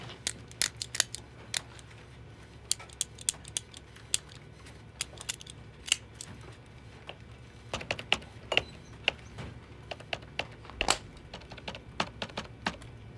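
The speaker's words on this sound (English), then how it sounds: "Are you clicking a detonator? It's a pin." Rapid, sharp clicks from a pen in an office, coming in irregular bursts and flurries, close and crisp over a low room hum, with no speech.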